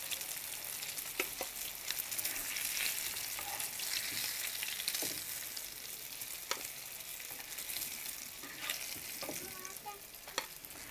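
Pieces of aair fish frying in oil in a pan for a Bengali fish curry, a loud continuous hiss and crackle with scattered pops and light stirring taps.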